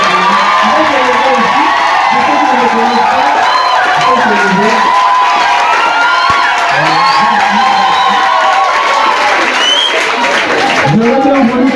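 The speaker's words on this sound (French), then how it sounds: "On applaudit pour lui." A congregation at a Catholic school day of prayer applauds and cheers for a priest, loud sustained clapping mixed with whoops, shouts and children's voices filling the room throughout.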